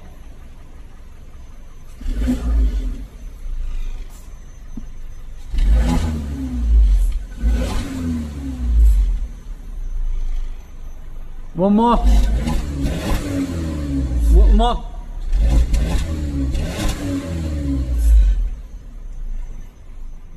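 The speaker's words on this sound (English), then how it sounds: "you can hear kind of a little bit of a little burble on it" An Audi A1 1.2 TFSI heard at the exhaust, revved in several bursts with rising pitch and a burbling rumble between idle pauses, loud and close, with brief speech.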